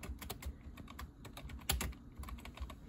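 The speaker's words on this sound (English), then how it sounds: "And I'm using an old Apple keyboard, which is why it's kind of hard to type." Rapid typing on an old Apple computer keyboard, a dense run of close, crisp key clicks in irregular quick rhythm with no talking.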